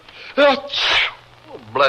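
One sharp sneeze bursts out, with brief bits of talk just before and after it.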